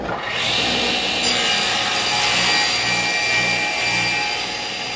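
A hand saw cutting through wood for a child's step stool, producing a continuous close, loud rasping stroke sound that holds steady for several seconds without any talking.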